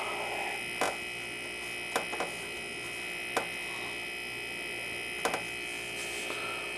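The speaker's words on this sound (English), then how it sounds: "So that's my little compressor." A small homemade air compressor runs with a steady, droning mechanical hum and a few sharp clicks and ticks breaking through at irregular intervals.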